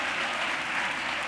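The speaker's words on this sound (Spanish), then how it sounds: "están aplaudiendo mucho," A studio audience claps loudly and continuously in a brief, dense burst of applause.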